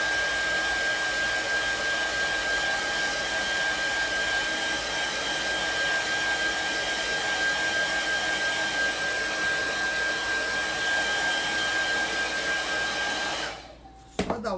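A hair dryer drying paint on a handmade craft bag, blowing as a loud, continuous close whoosh for most of the span before switching off near the end.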